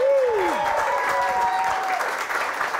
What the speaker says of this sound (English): big round of applause for Rich Hunt!